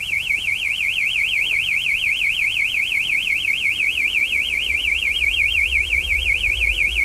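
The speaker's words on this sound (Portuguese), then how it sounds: "O alarme. Mas como que ele foi disparar?" A car alarm going off in a steady, loud, rapidly warbling siren tone that repeats without pause for the whole stretch, with a faint low rumble underneath.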